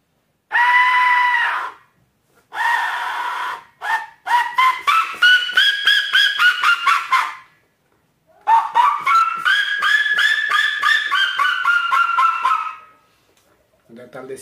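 A lightly tuned hunting bird-call whistle (pio) is blown in short, bright, chirping phrases, then quick runs of rapid trilled pulses, loud and close with brief pauses between bursts.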